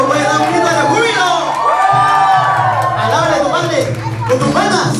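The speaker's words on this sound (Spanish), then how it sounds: "¡cuánto puede dar un grito de júbilo! ¡Alábale a tu padre!" A church wedding congregation at an evangelical Christian ceremony shouts, whoops and cheers with joy, a loud continuous crowd roar with voices rising and falling throughout.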